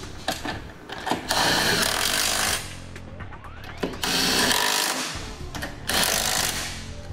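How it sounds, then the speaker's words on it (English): An impact tool tightens Curt trailer hitch fasteners on a 1999 Lexus RX300 in loud rattling bursts of a second or two, broken by short pauses and clanks close by. "Now with all 6 fasteners installed, we can go ahead and tighten them down."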